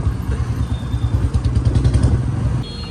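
A motorcycle runs in drop gear, its engine giving a steady, close, throbbing low chug with a rhythmic pulsing beat throughout and light mechanical clatter, no voices.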